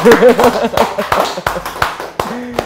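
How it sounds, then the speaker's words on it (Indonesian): Scattered hand claps at a morning civil-service communication training session in Jakarta, a handful of sharp, uneven claps close by over a talking voice, thinning out after a couple of seconds. "Tepuk tangan."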